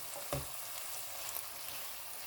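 Chopped yellow and red bell peppers with sweet chili sautéing in olive oil in a frying pan, a steady soft sizzle with one brief clatter near the start, no voices.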